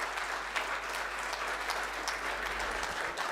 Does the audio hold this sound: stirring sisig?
no